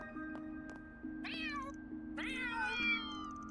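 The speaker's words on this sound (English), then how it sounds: "Kitty cats." Cats in Old Town in the video game Trails through Daybreak II: two clear meows, one short and one longer, close and moderately loud over a steady musical drone with faint plucked notes.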